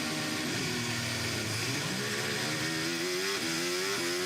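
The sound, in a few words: Mercedes F1 car engine revving at start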